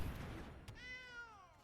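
A cat card in the Magic: The Gathering Arena video game gives a short, quiet synthetic meow with a clear rising-and-falling tone, following a soft click.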